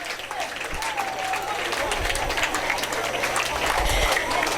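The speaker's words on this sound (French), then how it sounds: "on applaudit très très fort pour les filles de Brotier" Audience applauding loudly for the girls of a school during a televised programme, a steady wash of clapping sustained throughout with some voices mixed in.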